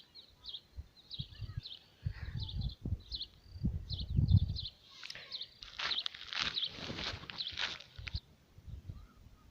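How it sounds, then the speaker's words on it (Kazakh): Small birds chirp in a village, their short high calls repeating throughout at a fair distance, with soft low rustling and thumps close by. "Жып-жылы құстардың дауысы естіліп тұр."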